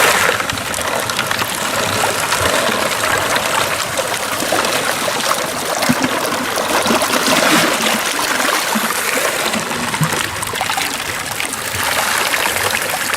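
Water rushes steadily through a Keen A52S sluice with a grizzly classifier on top, a loud, constant splashing wash that stays even throughout with no talk.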